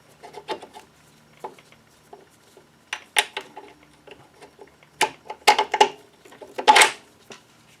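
A bolt being slid into an Audi upper control arm, with scattered close metallic clicks, scrapes and taps in irregular bursts against a quiet background.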